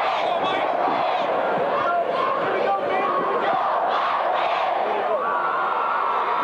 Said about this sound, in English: The most prominent sound down there is the enormous crowd filling the Pocatello side of Holt Arena.